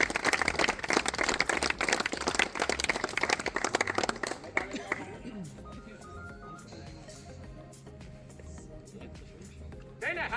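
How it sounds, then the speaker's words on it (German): A crowd claps for a team at a turbo-kart race in Wohlen, a dense burst of applause for about four seconds that then fades into quieter background noise with voices. "Darum ein riesen Applaus für unsere Unsafe Bros."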